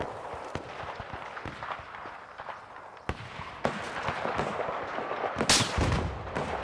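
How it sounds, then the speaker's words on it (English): Gunfire crackles through a Battlefield 4 battle as a sniper fires, with sharp scattered cracks and booms ringing out at irregular intervals over rumbling combat noise, including a loud blast near the end. "I'm getting sniped at."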